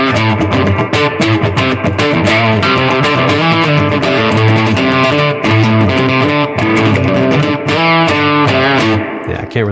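A loud, sustained distorted electric guitar riff through a Budda 212 amp, with chugging, repeating chords, played close and alone without any voices.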